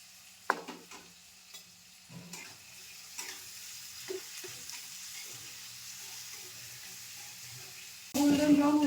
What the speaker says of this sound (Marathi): गोल्डन ब्राऊन होईपर्यंत परतून घेऊया.